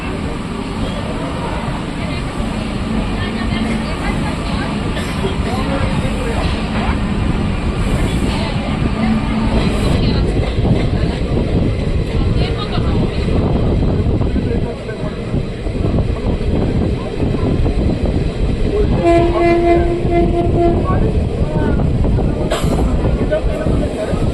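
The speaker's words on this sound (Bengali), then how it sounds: "ফাইনালি 7:20 আমাদের ট্রেন শিয়ালদা ছাড়লো।" Maa Tara Express pulling out of Sealdah station, a steady loud rumble of wheels and carriages throughout with rising clatter, and a short horn-like tone near the end; people talk now and then over the train noise.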